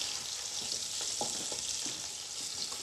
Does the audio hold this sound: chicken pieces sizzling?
yes